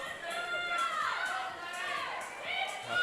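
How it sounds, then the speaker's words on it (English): A powerlifting meet crowd cheers and shouts steadily for a woman's unofficial world record deadlift attempt of 177 kilos, a dense wash of voices throughout. "Whole crowd is on their feet. Everyone is cheering for her."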